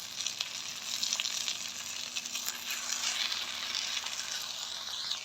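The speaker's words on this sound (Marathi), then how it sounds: "आता याच्यात काय करायचं कट केलेली माळ भाजी टाकायची" Chopped amaranth greens dropped into a hot pan with garlic, giving a dense steady sizzle with faint scraping, close and unbroken for several seconds.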